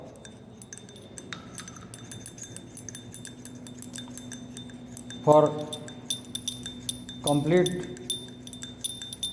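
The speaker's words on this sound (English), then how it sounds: "mix it properly with continuous stirring with a" Atropine ointment stirred in a glass beaker with a glass rod, giving a few bright clinks and scraping taps, two louder ringing knocks midway, under a speaking voice.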